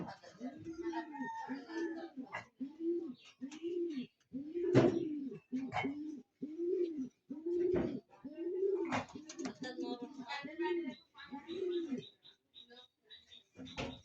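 Pigeons coo in a steady repeating rhythm at a pigeon farm, including Irani Togi birds, a rounded burbling call recurring every half second or so, close by, with someone talking over and between the calls.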